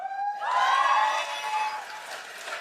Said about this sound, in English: Why are we applauding this?